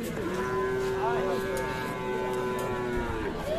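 A Sahiwal-breed bull calf or other cattle gives one long, sustained moo at a rural livestock market in Dinajpur, close and clear above faint background market noise.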